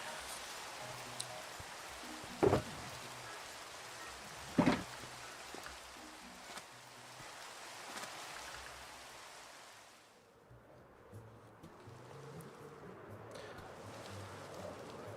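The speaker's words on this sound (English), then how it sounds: "Oh, the rain is a pain in the butt." Rain falls in a Minecraft game as a soft, faint, even hiss. Two brief louder clicks sound early, and the rain thins out for the last few seconds. No one speaks.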